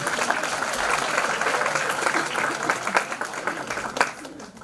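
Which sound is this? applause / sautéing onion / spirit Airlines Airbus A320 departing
applause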